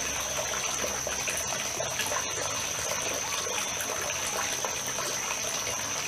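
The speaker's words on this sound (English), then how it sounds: "I also got the faucet going too to put water." Steady running water pours continuously from a faucet at moderate volume, a constant splashing hiss with no pauses or voices.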